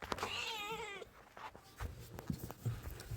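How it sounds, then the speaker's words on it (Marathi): A cat lets out one drawn-out, wavering meow close by. Scuffling and low thumps follow as it moves around. "बघा मांजर कसं आहे."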